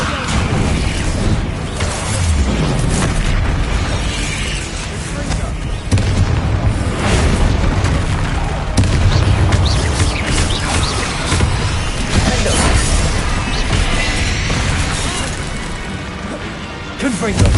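Bombarda explosion spell blasting in the video game Hogwarts Legacy, a heavy booming crash set in dense, continuous loud game combat with other spell impacts, with a voice talking over it.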